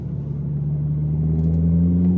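Ford Mondeo MK3 engine accelerating on a tight, bumpy street past a hospital, a steady close rumble with rising engine tone building over a couple of seconds, no talk.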